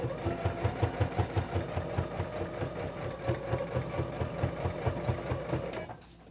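A sewing machine stitches through apron fabric in steady, rapid rhythmic pulses, running close and clear before stopping abruptly near the end.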